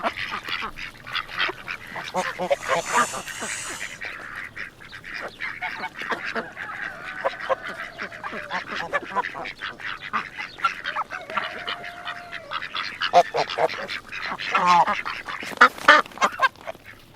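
Ducks quack and honk on a farm in a busy, overlapping chorus, with geese-like calls mixed in and a few louder squawks toward the end against a steady outdoor background.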